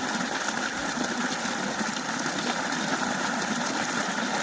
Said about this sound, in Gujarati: આમ તો અત્યારે મોટરનું પાણી આવે છે